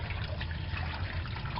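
Tap water runs steadily into a kitchen sink while lima beans are rinsed, a soft continuous trickle and splash close by with no talking.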